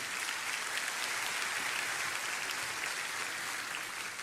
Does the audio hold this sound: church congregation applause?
yes